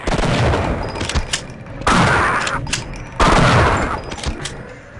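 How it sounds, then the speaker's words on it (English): Machine gun fire in Black Mesa, the Half-Life remake, sounding as three loud, dense bursts of rapid shots, each decaying before the next burst, with no talk. "the gun animations and sound effects still look great and sound awesome, particularly on items like the machine gun or the shotgun"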